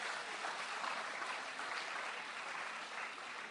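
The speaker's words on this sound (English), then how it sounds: "Let us give everybody another round of applause and loosen up" Audience at a parish forum in St Mary High School gives a round of applause, a steady wash of many hands clapping, even and sustained, fairly distant and soft.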